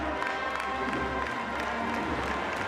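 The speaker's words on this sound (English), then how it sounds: "He receives a round of applause, not just from the Duke fans there who were thrilled, but Florida State fans" Baseball crowd of Duke and Florida State fans applauding pitcher Leon at a college game, a steady wash of clapping and murmur held at an even level throughout.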